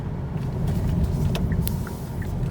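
A 2018 Kia Optima plug-in hybrid cruising on the road gives a steady, loud low rumble of road and tire noise inside the cabin, with a few faint ticks and clicks.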